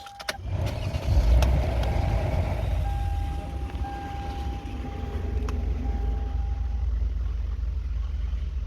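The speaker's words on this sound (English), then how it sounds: "now we're gonna start the engine again" A car engine starts with a brief crank and settles into a steady, close idle that runs on evenly for several seconds, with a thin high tone audible over the low rumble during cooling system bleeding.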